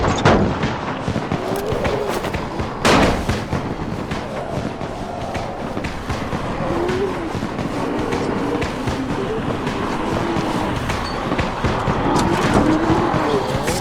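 Firecrackers going off in the zombie game Dying Light, sharp loud cracks popping over a dense, constant rumble of game noise and crowd sounds, with a couple of distinct bangs early on.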